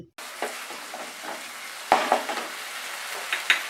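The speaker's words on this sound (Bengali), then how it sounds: "তো এবার সমস্ত মশলাটাকে আমি ভালো করে কষিয়ে একটু কাই মতো করে নিচ্ছি।" Green chilli spice paste being stir-fried in a pan, a steady soft sizzle with scraping spatula strokes and a few sharper clinks of utensil on metal, close and without talk.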